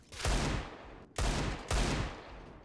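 Gunfire in the game CS:GO comes as three loud, close bursts of rapid shots separated by short gaps, with no speech over it.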